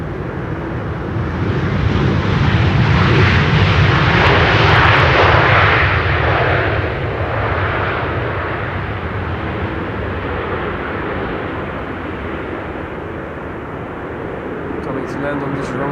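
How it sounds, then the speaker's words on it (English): A KLM Boeing 737-800 jet lands on a runway at Schiphol, its engine roar swelling loud and broad, then easing into a sustained rushing rumble as it rolls out, heard from a distance with a commentator talking over it. "let's look at the landing of KLM flight 1002 first, arriving from London Heathrow. 737-800"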